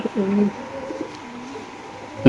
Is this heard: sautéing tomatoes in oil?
no